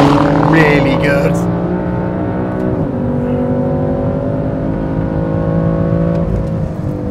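A BMW F80 M3 saloon with carbon ceramic brakes and 19-inch wheels driving on a circuit, its engine droning loudly from inside the cabin with pitch shifts as it changes gears, someone talking over it.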